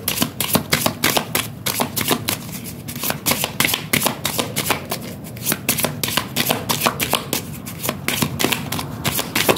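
Tarot cards are handled and shuffled close by in a fast, continuous run of crisp riffling flicks.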